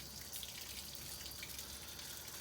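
Plain water, with no antifreeze, drains out of an engine being stripped down to remove its head. It makes a steady hissing trickle with no break and no talking.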